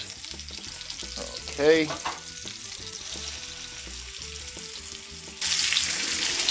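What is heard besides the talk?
chicken browning and frying in a pan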